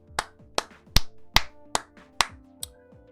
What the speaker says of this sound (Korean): 고생하셨으니까 박수.